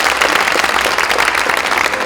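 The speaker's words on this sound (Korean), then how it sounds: "더불어민주당 의원 전원이 서로에게 박수 한번 서로 격려해 봅시다" Democratic Party lawmakers in a caucus meeting room break into applause, a loud, thick wash of many people clapping together that runs steadily and without pause.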